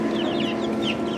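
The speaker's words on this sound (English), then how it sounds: "we are gonna interview some baby chickens." Chicks and hens cluck and chirp in a steady chorus close by, with soft chattering calls over a constant farmyard hum.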